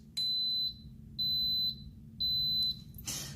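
An Instant Pot electric pressure cooker cooking St. Louis style ribs gives three evenly spaced, clear high-pitched beeps, each about half a second long, followed by a brief noisy rustle.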